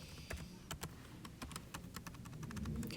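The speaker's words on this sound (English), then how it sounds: "I'm typing that in my calculator." Quick, crisp taps on calculator keys come in an irregular run, faint and close with a quiet background hum and no talking.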